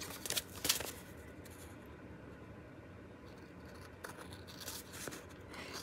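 Quiet snipping and papery rustles near the start, followed by faint handling noises and a few soft cuts later.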